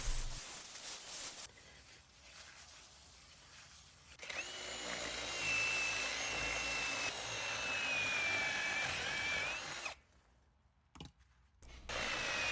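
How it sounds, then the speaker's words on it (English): A power drill with a carbide masonry bit hollows out a stone for a planter, grinding in long steady passes with shifts in pitch and loudness, then brief pauses and stops near the end. "I used a carbide masonry bit to start hollowing out the rock"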